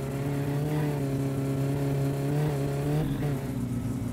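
A car engine in the video game My Summer Car hums in a loud, steady low drone. The revs rise slightly, then dip briefly near the end, with no voices over it.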